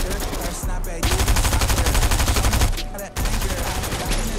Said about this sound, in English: there's shots behind us and in front of us